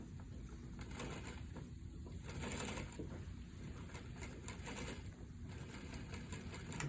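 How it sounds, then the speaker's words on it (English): A sewing machine stitching down the center of a bias-cut fabric sample, running as a steady low mechanical hum and whir with rhythmic pulsing, continuous and close for several seconds. "I'm going to take and stitch right down the center of each"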